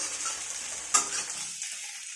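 Vegetables sizzle in a pan tempered with five-spice (panch phoron) and dried red chillies, a steady close hiss broken by one sharp stir of the spoon midway before the frying quiets slightly.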